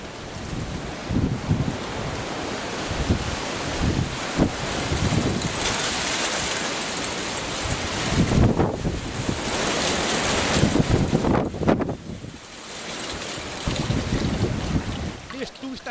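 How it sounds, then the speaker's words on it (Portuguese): Strong, gusty wind buffets the microphone on the site of a homemade wind-powered water pump, roaring steadily with surges and sudden drops as it shifts direction, while a voice talks underneath. "neste momento o vento é forte, mas muito turbulento e com constantes mudanças de direção"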